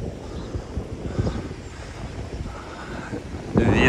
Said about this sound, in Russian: Сегодня море волнуется.